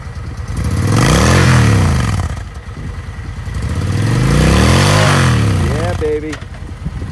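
Used 2004 Honda 750 Shadow Aero cruiser motorcycle engine, close and loud, revving up twice in long swelling pulls and dropping back to idle between them, with a voice talking over it.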